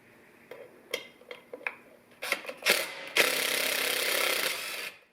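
Thread-locked Torx T30 screws being backed out of a bearing retainer on an NSG370 Jeep TJ transmission: several sharp ratchet clicks and metal taps, then a longer loud burst of ratcheting and scraping, close up without speech.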